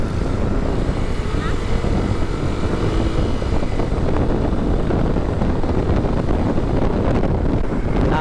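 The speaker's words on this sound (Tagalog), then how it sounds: "Gahagunos yung hangin eh." Constant wind roar buffets the microphone while riding along a road, a dense, loud rush with no letup; a voice can be faintly heard beneath it.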